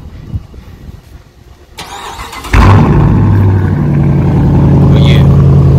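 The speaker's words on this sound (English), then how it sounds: "About to go ahead and give it a good cold start." Dodge Challenger R/T engine cold start: after brief quiet with a few small clicks, the starter cranks and the engine catches with a loud roar, then settles into a strong, steady rumbling idle.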